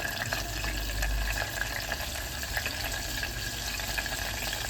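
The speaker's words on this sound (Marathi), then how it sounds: "कडीपत्ताना मस्त तडतर तडतर वाचतो" Curry leaves crackling in hot oil for a Malvani oyster masala, a dense steady sizzle with scattered sharp pops running throughout, close and fairly loud, with no talking.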